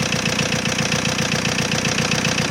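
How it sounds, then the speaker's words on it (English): Car engine idling steadily nearby, a continuous loud rumble with a fine, even pulsing throb throughout. "engine's running"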